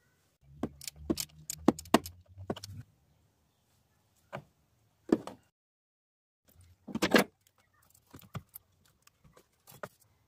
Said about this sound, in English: Disconnecting the battery, starting from the negative first.